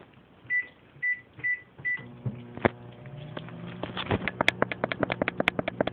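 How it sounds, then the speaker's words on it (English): A microwave oven heating milk, giving a few short electronic beeps, then a steady running hum with clicking and faint rattling, close by, with no voices. "Put it in the microwave."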